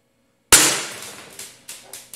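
A Taurus G2 (PT 24/7) full-metal CO2 gas blowback airsoft pistol fires one loud, sharp close-up shot with a short ringing decay, followed by three fainter, quicker clacks of the slide and mechanism.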